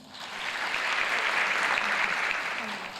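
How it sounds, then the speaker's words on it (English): Live audience at a women's event clapping together in a steady, sustained wash of applause that swells and holds loud for about three seconds, with a few voices faintly mixed in. "Some of you clapped twice"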